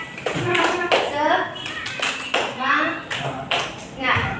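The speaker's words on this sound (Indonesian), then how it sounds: "Kita tepuk semangat dulu ya." A classroom group following a teacher in a rhythmic spirit clap, with short bursts of clapping in a patterned beat alternating with a voice and children chanting along.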